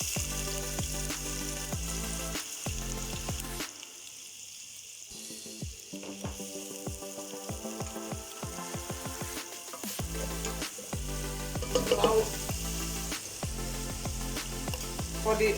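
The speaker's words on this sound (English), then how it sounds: "we are going to fry the onion till golden brown" Onion frying in a pot for bamia, a continuous close sizzle under steady background music, with occasional stirring sounds and a brief quieter stretch partway through.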